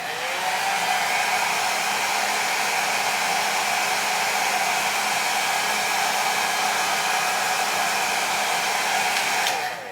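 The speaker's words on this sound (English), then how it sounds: "So I'm gonna get my blow dryer on a warm setting and start to press down the lace." A blow dryer on a warm setting runs steadily up close, a constant whirring hiss from start to finish, cutting off at the very end.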